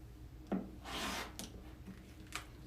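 A rotary cutter and ruler trimming the sides of a quilt block: a few short scraping, rubbing strokes against fabric, quiet and close, with no talk.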